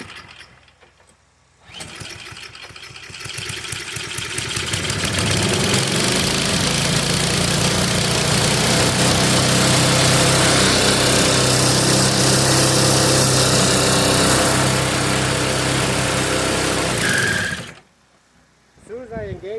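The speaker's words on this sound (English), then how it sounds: "you can hear my neighbor snow blowing" A neighbor's snow blower engine runs outdoors, rising from quiet into a loud, steady mechanical roar that holds for about fifteen seconds before cutting off abruptly.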